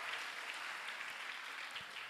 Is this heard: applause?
yes